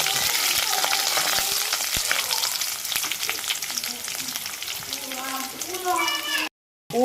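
Shallots, curry leaves and green chilli frying in coconut oil for Kerala mutton roast, a loud crackling sizzle with stirring, a voice speaking over the last seconds before a short gap of silence.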